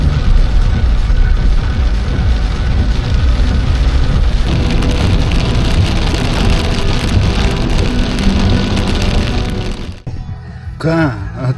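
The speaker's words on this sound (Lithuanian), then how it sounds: "Lietus lyja" Rain falls steadily in a dense, even hiss for about ten seconds, then quiets as a voice speaks briefly over the softer patter.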